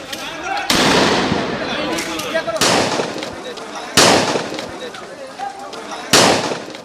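Tear gas shells, sound grenades and gunfire go off during street clashes between protesters and police in Chattogram's New Market area. Four loud, sharp bangs come at irregular intervals, each trailing off into a rumbling roar.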